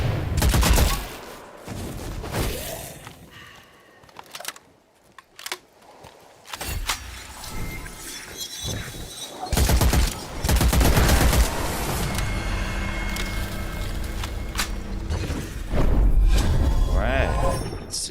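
Rapid gunfire in the dark-fantasy shooter Witchfire, bursts of shots and impacts layered with loud game effects and explosions, coming in dense clusters with brief lulls.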